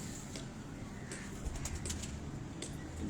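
A pigeon kept on a rooftop coos softly in repeated low murmurs, faint and close, with light chirps from other birds scattered over a quiet background.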